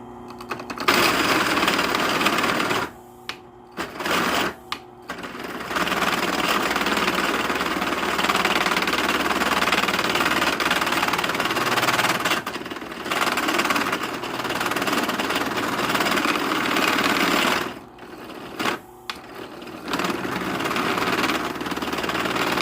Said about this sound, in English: This is a 1-inch drill bit. I'm hoping it's going to be big enough.